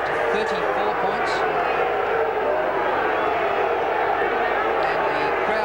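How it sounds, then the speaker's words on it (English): A vocal football crowd at a 1995 Carlton versus Brisbane match as the umpires leave at half-time, a loud continuous roar of jeers and shouts that fills the whole stretch. "the crowd very vocal as the umpires go off at half-time"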